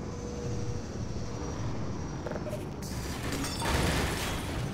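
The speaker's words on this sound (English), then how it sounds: "I hear a helicopter outside. Or some kind of flying machine." A helicopter flies outside in Half-Life 2, a broad, continuous rumbling drone that swells louder toward the end, heard alone without speech.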